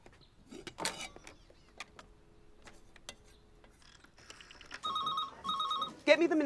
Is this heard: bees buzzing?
no